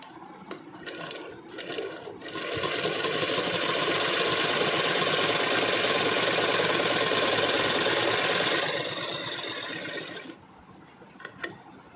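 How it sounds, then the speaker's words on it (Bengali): A sewing machine stitches a full-length Patiala garment, starting with brief stop-start runs, then running steadily and loudly for several seconds before slowing to short bursts again. "একইভাবে আবার এইদিকেও সেলাই করে নেব।"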